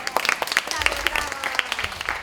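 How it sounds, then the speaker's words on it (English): An audience at a beauty pageant training seminar claps for Miss Mexico, a light, uneven spatter of hands over about two seconds, with a voice speaking over the clapping. "Let's give Miss Mexico a round of applause"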